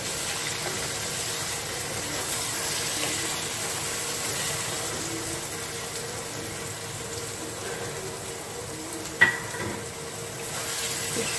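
Pumpkin sabji being stirred in a pan gives a steady, soft scraping and low sizzle throughout, with one brief sharp clink of the spoon near the end and no talking.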